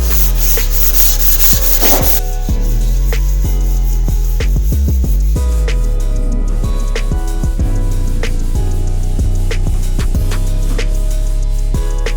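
Wood edges are sanded with hard, loud, continuous abrasive rubbing, close up, with a rhythmic back-and-forth scrape and rough grinding texture throughout, no talking.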